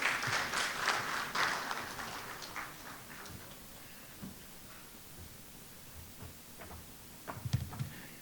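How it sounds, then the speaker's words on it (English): Audience applause welcoming a speaker at the Urocon urology conference, a burst of clapping that swells early, then fades within a few seconds into quiet room tone with faint scattered sounds. "let's welcome him with a huge round of applause"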